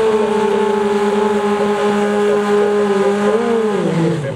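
A race car on the track at Pori sends out a loud, sustained engine whine that holds steady, then dips in pitch near the end as it pulls away.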